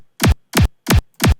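Four punchy hardcore kick drum hits with a sharp, snappy attack and pitch drop, evenly spaced and loud, with nothing else playing.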